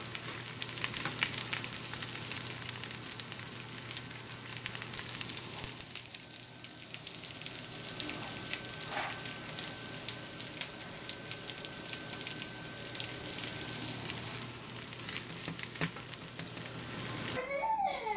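Leftover casamiento rice and beans reheating in a pan, giving a steady, continuous sizzle and crackle that holds at an even level throughout, with no voices.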